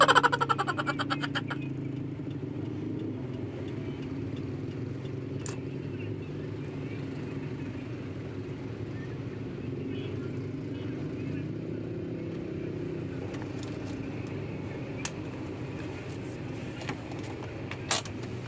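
Heavy, jammed traffic on the Musi 4 bridge in Palembang gives a dense, steady rumble of idling car and motorbike engines, with a few faint horn taps and distant voices in the background.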